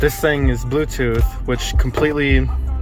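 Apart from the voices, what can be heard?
No everyday noises stand out.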